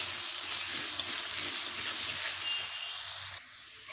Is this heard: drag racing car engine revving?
no